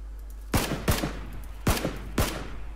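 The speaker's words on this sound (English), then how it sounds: "Are you shooting him?" Four sharp gunshots ring out in PlayerUnknown's Battlegrounds, spaced irregularly and each followed by a short decaying echo, over a low steady hum.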